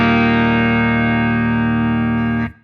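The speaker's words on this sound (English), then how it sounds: "here is my core clean tone on the bridge humbucker" A single sustained chord rings from an electric guitar on its bridge humbucker through a Mesa Mini Rec amp, clean-toned and steady, then stops sharply after about two and a half seconds.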